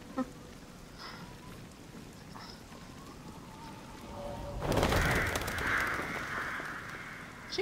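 Crows caw in a Resident Evil Village game scene, a few distant calls early on, then a loud burst of flapping and cawing swells midway and fades out over a rumbling ambient bed.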